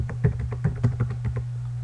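Quick tapping of a computer keyboard as a password is typed, about eight crisp close keystrokes in an uneven rhythm over a steady low electrical hum, no talking.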